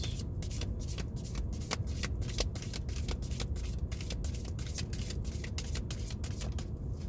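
A deck of tarot cards being shuffled by hand, a steady run of crisp riffling flicks repeating close up over a low background rumble, with no talking.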